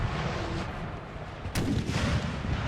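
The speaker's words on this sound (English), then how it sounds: "a lot of these kills are the result of artillery strikes" Artillery cannon fire on a battlefield in Napoleon: Total War, with one sharp boom cutting through a dense rumbling backdrop of distant battle noise.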